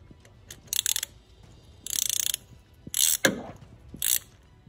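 A ratchet wrench loosens a line on an Audi B7/B8 2.0 turbo in a home garage. It gives five short bursts of quick, close clicking, separated by brief pauses, with no talk.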